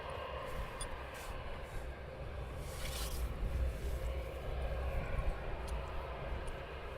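A jet airliner taxiing past at Luton Airport in the early morning, a steady low engine roar and whine heard from a distance, swelling slightly as it passes.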